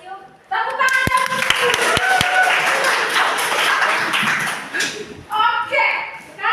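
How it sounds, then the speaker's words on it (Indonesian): A classroom of pupils claps briefly in a few sharp, scattered bursts that blend into chatter, with children's voices and a teacher talking over and around the clapping. "Tepuk tangan"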